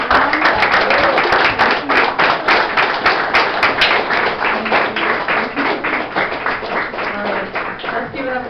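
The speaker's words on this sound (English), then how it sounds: "Can we please give Molly a big round of applause?" Lively applause and clapping from a pub crowd at a presidential candidate's rally, loud and sustained, with dense hand claps and scattered cheers.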